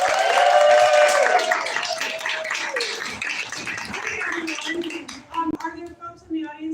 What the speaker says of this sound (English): Please give a warm round of applause for Julie.